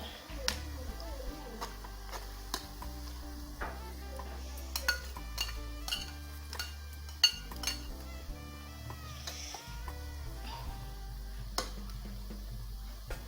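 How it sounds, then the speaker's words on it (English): Spoon or spatula stirring chinchin dough pieces in a pot on the stove, light scattered clinks and scrapes with a steady low hum underneath, fairly quiet and close, no talking. "You stir occasionally."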